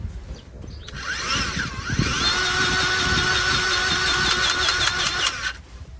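A Ryobi 18V ONE+ cordless grease gun motor runs steadily for about five seconds, a loud continuous electric whine with a rising pitch sweep early on, starting and stopping with a trigger click, no talking.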